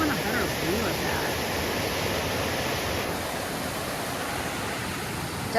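Comers Creek Falls on the Appalachian Trail roars as a steady, broadband rush of falling water, continuous and fairly close, filling the whole clip without pause.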